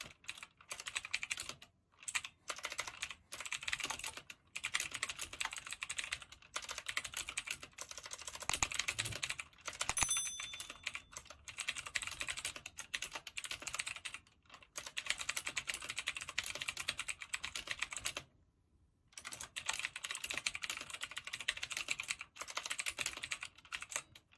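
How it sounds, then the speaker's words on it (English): Continuous typing on a CHONCHOW gaming keyboard, close and steady, with dense rapid key clicks and a few brief pauses, no voices. "So I'm gonna go ahead and open up a text document and just type in it."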